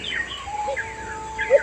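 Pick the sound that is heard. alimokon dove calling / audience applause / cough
alimokon dove calling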